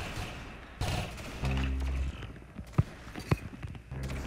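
Rapid spam-gun fire in Roblox Arsenal, quick bursts of shots followed by a few separate loud thumping hits, with no talk.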